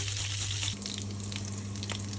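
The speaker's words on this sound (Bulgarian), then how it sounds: "Взимаме една плитка тенджера, съсипваме малко зехтин, добавяме супена лъжичка масло, скилитка чесън" Garlic sizzles in olive oil and a spoonful of butter in a shallow pot, a steady close crackling fry with scattered small pops and a low hum running underneath.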